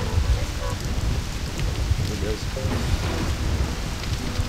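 Torrential rain pours steadily in the video game Black Desert, a dense, even hiss of downpour with low rumbling beneath, while a voice briefly exclaims over it.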